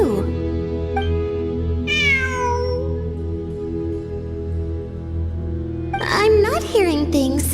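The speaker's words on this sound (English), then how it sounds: "It really is a cat." A cat in the video game Genshin Impact meows several times, with one clear cry near the start and a cluster of sharper meows toward the end, all over steady game music and background sound.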